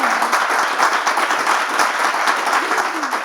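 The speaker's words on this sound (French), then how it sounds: "On peut applaudir Salomé, s'il vous plaît?" Applause from a French talk-show studio audience, a dense steady patter of many hands held at an even level for a few seconds, with a faint voice briefly underneath.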